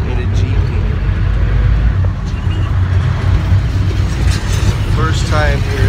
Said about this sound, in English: First time here riding in a jeep.